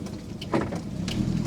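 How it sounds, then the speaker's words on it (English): Steady rain falls on a rainy morning, a continuous soft patter with low rumbling underneath and a few brief brighter splashes, no voices. "It's a rainy day today."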